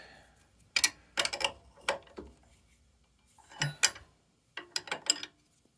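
A wrench clicks and clanks in short metallic bursts as pedals are tightened onto the left crank arm of a Juiced HyperScrambler 2 e-bike, several quick ratcheting taps close by in a quiet room with no talk.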